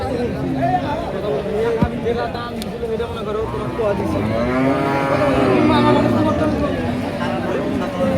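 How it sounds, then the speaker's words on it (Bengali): Australian cross and Jersey cattle moo loudly and repeatedly at a busy cattle market in Mirzapur, Tangail, the long lowing calls over a constant background of crowd chatter. "অনেক অস্ট্রেলিয়ান ক্রস জাতের গরুগুলি উঠেছে এই পাশে বড় বড় গরু উঠেছে"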